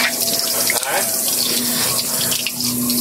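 Water gushes steadily from a deepwell water pump during a repair demonstration, a continuous close splashing flow with a low steady hum beneath it and no talk.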